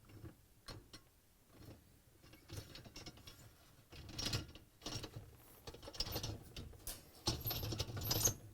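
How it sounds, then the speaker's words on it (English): Quiet clicks and plastic rattles as four rollers are fitted onto the upper rack rails of a GE dishwasher, irregular small mechanical snaps and scrapes, close but faint with no speech. "I'm going to place all 4 rollers onto the rails."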